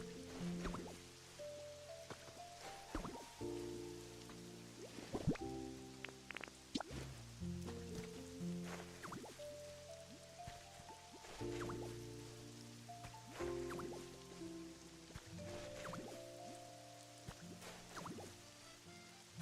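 Rain falls in a Pokemon video game as a quiet, steady patter with scattered drips, heard beneath the game's soft melodic music for the whole stretch.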